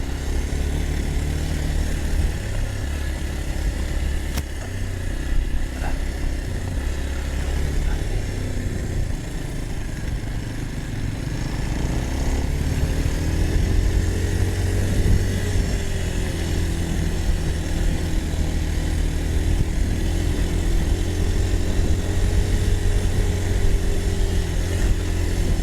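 Kawasaki KLX230 single-cylinder motorcycle ridden in Bali, a steady close engine drone with low harmonics shifting in pitch as it revs and decelerates, wind rumble throughout, no talk.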